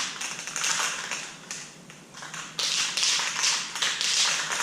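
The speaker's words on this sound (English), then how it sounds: "always remember to shake your paint up at least 2 minutes after the ball starts rattling in it" A spray paint can is shaken hard, and its mixing ball rattles in quick, continuous bursts with a brief pause partway through, close and fairly loud.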